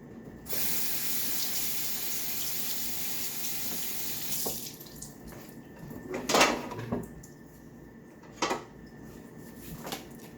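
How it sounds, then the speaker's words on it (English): Tap water gushes steadily into a sink as a cutting board is rinsed, then cuts off, followed by a few sharp knocks and clatters of the board being handled nearby. "So my cutting board. Okay, first I'm going to rinse it."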